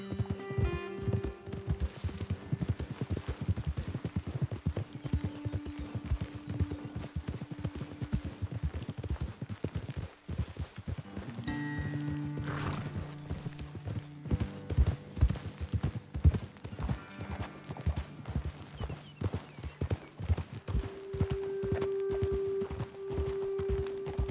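Horses move along a trail in the video game Red Dead Redemption 2 with a continuous rhythmic clatter of hooves, steady and fairly close, over soft musical tones and ambient sound.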